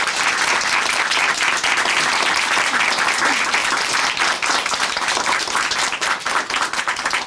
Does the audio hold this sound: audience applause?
yes